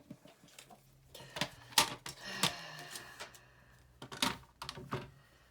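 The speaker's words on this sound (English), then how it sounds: "So what we're going to do is we're going to cut this down." Paper card stock trimmed down to size for stamping, a scattering of close, crisp cuts and taps at an uneven pace with quiet pauses between them.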